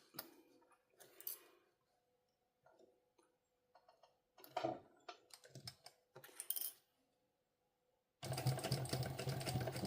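A sewing machine stitches a fabric sling pouch in short stop-start bursts of whirring, then runs in a longer steady burst at the end, close and moderately loud.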